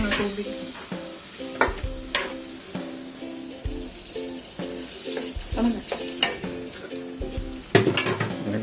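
Cabbage is stir-fried in a pan for pansit bihon, with steady sizzling, scraping stirs and clinks of a utensil against the pan, heard close alongside a faint tonal background.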